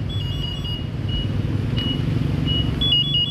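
A WMoto Neutron electric motorcycle's parking locator alarm chirps in short, high electronic beeps at uneven intervals over a low outdoor rumble.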